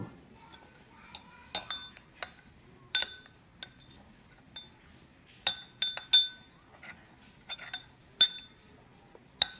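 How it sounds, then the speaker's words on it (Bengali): A spoon clinks and taps against a bowl while mixing mashed banana with rose water for a face pack, a string of irregular bright clicks and chinks spread across the stretch with quiet gaps between them. "আমি তো গোলাপ জল আর কলা ভালো করে মিশিয়ে নিলাম"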